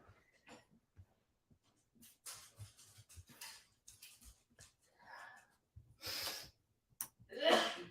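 A sharp, bursty sneeze near the end, preceded by scattered breaths and small vocal sounds at close range.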